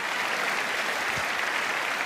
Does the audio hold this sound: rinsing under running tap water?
no